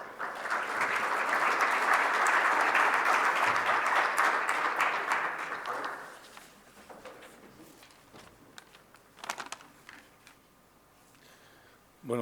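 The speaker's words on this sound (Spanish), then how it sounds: "a quien también vamos a recibir con un fuerte aplauso" Audience applause at a cybersecurity summit welcoming a moderator, loud dense clapping for about six seconds that fades to scattered claps and quiet.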